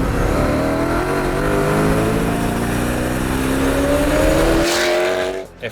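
A Ferrari F355 GTB with a gated manual gearbox accelerates hard, its engine note climbing steadily in pitch as revs build, loud and close, then cutting off abruptly near the end.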